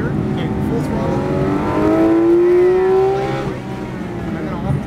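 Porsche GT3 RS engine at full throttle on the Atlanta Motorsports Park track, a loud, steady rising howl heard from the cabin with faint tire noise underneath.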